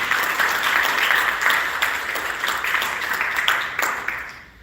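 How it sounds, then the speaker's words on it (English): An audience applauds at a sculpture dedication ceremony, dense clapping that starts strong and gradually thins out, with a few sharper individual claps near the end as it fades away. "let's give a round of applause"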